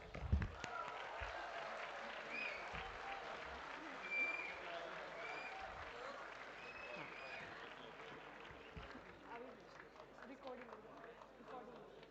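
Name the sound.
audience applause at a convocation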